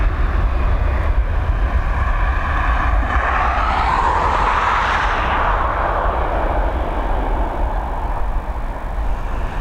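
An Airbus A320 takes off from Dublin Airport's runway 10R bound for Brussels, a loud, continuous jet roar with a rising and falling whine as it climbs past, steady throughout.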